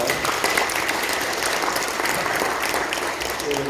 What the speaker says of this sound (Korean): 우리 박수로 받도록 하겠습니다